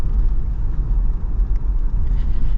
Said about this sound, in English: Even when you go over bumps, kind of crashes over the bumps more like a unibody car